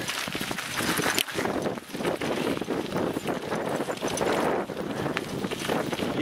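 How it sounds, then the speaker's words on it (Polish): Strong wind blows outdoors along an old dike, buffeting the microphone with a loud, continuous rushing roar that rises and falls in gusts. "Wieje, wieje, cały czas wieje."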